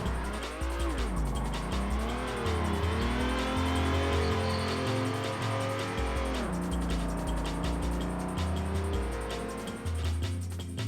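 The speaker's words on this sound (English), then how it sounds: "Stay on the throttle and hold the slide throughout the corner and you'll be drifting." A car drifts in the racing sim Assetto Corsa: the engine wails and sweeps up and down in pitch as the rear slides through a corner, with steady tire squeal layered over the loud, continuous engine note, and no talk.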